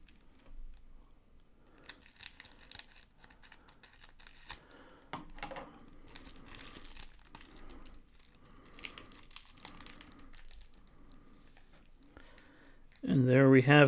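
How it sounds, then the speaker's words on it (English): Scissors snip and slice through the crinkly packaging of a Pokémon Obsidian Flames Elite Trainer Box, close and fairly quiet in irregular bursts of cutting and rustling, ending with a sudden louder noise. "Bust out the scissors, perhaps."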